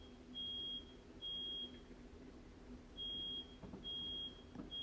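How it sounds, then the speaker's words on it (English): Unexplained electronic beeping in a quiet indoor space: four evenly spaced, thin, high-pitched tones, each lasting about half a second, repeating at a steady rhythm over a faint low hum. "I wonder what that beeping is."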